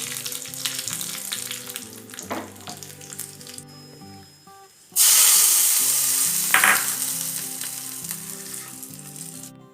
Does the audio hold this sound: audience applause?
no